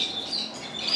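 Native finches, mealy and lesser redpolls and siskins, chirp and twitter constantly in an indoor bird room, a dense, bright chorus of overlapping high calls heard close by with no talking.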